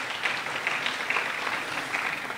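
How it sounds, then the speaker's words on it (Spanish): A mayor's announcement event in Pereira, where an audience applauds Alejandro, a departing member of the city fire brigade, with a steady, dense wash of clapping throughout. "Quiero pedirles un aplauso para Alejandro"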